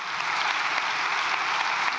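Parliament members applaud in a chamber after Spain's leader announces recognition of Palestine, a dense, even wash of clapping that holds steady without breaks.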